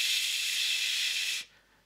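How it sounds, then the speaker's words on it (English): White noise from a modular synthesizer noise source module, a steady broadband hiss heard alone at even loudness for nearly one and a half seconds before cutting off abruptly. "I love white noise. You know white noise."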